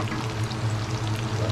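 Ingredients hit a hot pan and set off a steady, loud, broadband sizzle that holds evenly throughout, with no voices.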